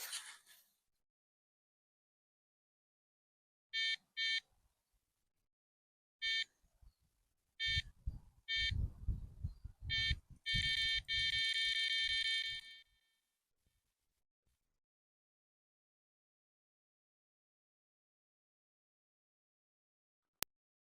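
An electronic fishing bite alarm on a feeder rig sounds high, sharp beeps outdoors. A few isolated beeps come first, then a rapid run of closely spaced beeps as line is taken, with low rustling and handling noise underneath.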